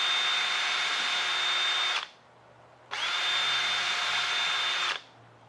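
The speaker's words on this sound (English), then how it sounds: "Drill our hole." A power drill bores a hole in a wooden dowel, making two sustained, close, loud whirring bursts of about two seconds each, separated by a short pause, with no talk.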